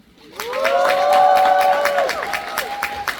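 An audience at a final-performance stage greeting for a musical applauds and cheers, with high voices rising in sustained shouts over dense clapping that swells then thins into scattered claps.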